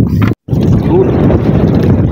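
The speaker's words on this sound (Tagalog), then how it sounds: "naglakas na yung hangin mga sisters" Strong wind roars and buffets the microphone in a loud, steady rush, broken by a brief dropout near the start.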